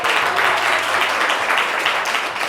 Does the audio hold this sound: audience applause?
yes